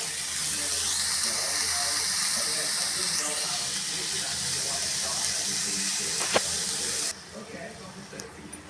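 Steady hissing, splashing stream of water pouring into a pan of cooking cowpea pods (karamani) for about seven seconds, then stopping abruptly, with faint kitchen clatter afterward.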